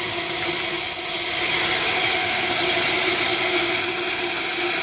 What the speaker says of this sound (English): you're using a lot of steam here, so now it's down to about 80 pounds